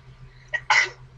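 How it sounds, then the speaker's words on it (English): A single sharp sneeze close by, a short intake burst followed by a louder explosive release, with quiet room tone around it. "Ah, I sneezed."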